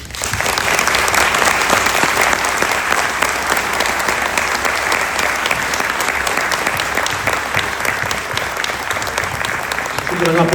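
A lecture audience breaks into sustained, loud applause, a dense wash of many hands clapping steadily for about ten seconds, close and continuous with no break.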